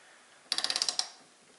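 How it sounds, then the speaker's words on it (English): A torque wrench clicks rapidly about eight times in under half a second while tightening a crankset bolt on a gravel bike's SRAM DUB crankset, sharp and close in a quiet room. "you want your torque wrench handle to be roughly perpendicular to the bolt here"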